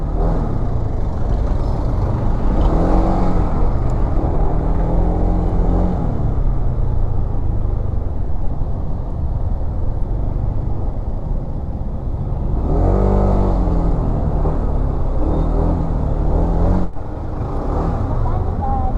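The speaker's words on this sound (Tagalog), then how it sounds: "Eto na naman po tayo sa traffic." Road traffic on a ride through Baguio, a steady rumble of cars and trucks with engines revving and an air brake hiss, continuous and fairly loud throughout with no talk.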